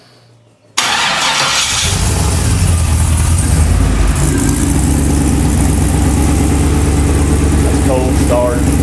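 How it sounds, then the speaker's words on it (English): A buggy with four-wheel drive twin sticks fires up from a cold start, its engine jumping from near silence into a loud, steady, close idle that continues without talk. "So we're cold starting it right now"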